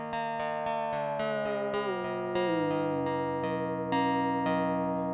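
A Reason Studios Objekt modelling synthesizer's plucked tone, using dispersion, strikes in a quick, steady rhythm, each hit ringing with a metallic, bell-like, slightly atonal shimmer while the pitch slides downward.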